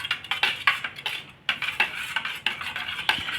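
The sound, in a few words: stirring coconut milk with maida using a spoon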